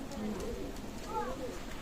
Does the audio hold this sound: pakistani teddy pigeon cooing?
yes